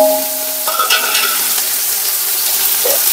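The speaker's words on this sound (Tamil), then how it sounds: "வெங்காயம் போட்டு நல்லா கிளறி விட வேண்டியதான்." Onions sizzle loudly in hot oil with bay leaf, cinnamon, cloves and fennel seeds while a spoon scrapes and stirs them around the pan, close up.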